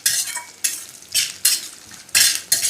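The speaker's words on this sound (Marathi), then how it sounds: "म्हणजे तेलामध्ये ते तळले जातील" Raw peanuts frying in hot oil in a pan, with close, bright sizzling that rises in several sharp bursts as they are stirred and then settles briefly between them.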